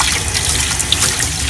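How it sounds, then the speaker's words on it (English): Tap water runs steadily into a kitchen sink for rinsing a rusty metal part with detergent, a continuous close splashing wash with no talk. "So I'm just using regular tap water here."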